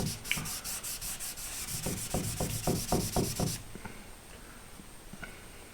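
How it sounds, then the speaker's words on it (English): Cotton rag wiping finish off a wooden color sample for a shelving unit, a rhythmic series of close rubbing swipes that quicken, then stop into quiet. "I'm just going to use a cotton rag and wipe over it."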